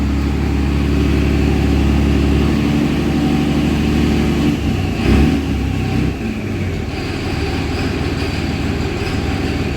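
A rebuilt Cummins diesel engine runs loudly nearby with badly clacking injectors, a dense rhythmic rattle over a heavy rumble that thins out and steadies after a brief surge midway.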